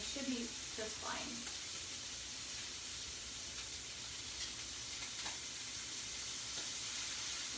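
Scallops searing in a hot pan, for a dish with lemon, garlic and wine pan sauce, give a steady, loud sizzle and hiss throughout, with brief utensil scrapes near the start.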